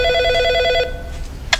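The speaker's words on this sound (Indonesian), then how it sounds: "Telepon berdering." A telephone bell rings in a short electronic trill, loud and close, stopping abruptly before a brief click.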